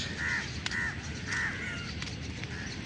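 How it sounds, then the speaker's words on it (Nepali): Crows perched on utility poles give several harsh caws in irregular bursts over steady outdoor background noise, loud and fairly close. "हरेक पोलमा चाहिँ काग यति धेरै कि"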